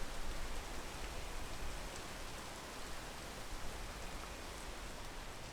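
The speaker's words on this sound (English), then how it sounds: "Once it stops raining." Rain falls steadily in a video game set on a mountain, a soft, even hiss of downpour that continues without breaks, faint and uniform with no voices.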